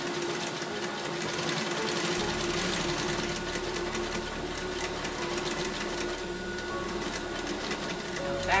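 A sewing machine stitches a French seam at quarter-inch width, running steadily and close throughout with a dense mechanical whir and rapid needle rhythm, alone and fairly loud.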